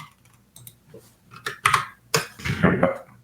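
Computer keyboard keys are pressed in a short, irregular burst of close, sharp clicks and taps while someone works at a development workspace, with quiet gaps between strokes.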